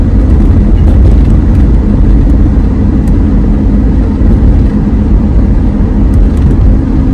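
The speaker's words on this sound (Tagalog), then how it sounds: "talagang marami rin talagang sasakyan pa dito sa Seattle" Steady, loud road traffic fills a Seattle street, a continuous dense roar of passing cars with no pauses and no talk.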